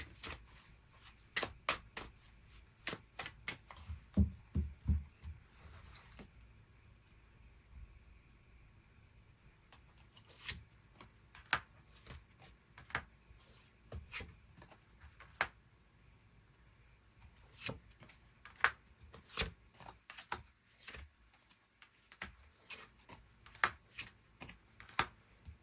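Someone handles a tarot deck up close, shuffling and pulling cards. Sharp papery clicks and snaps come in uneven bursts, with softer riffling between them and no voices.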